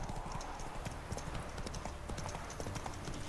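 A horse's hooves clip-clop steadily at a walking pace in The Witcher 3 video game, the rhythmic footfalls close and clear with no talk over them.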